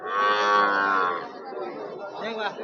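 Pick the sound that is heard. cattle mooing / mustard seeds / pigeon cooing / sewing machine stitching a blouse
cattle mooing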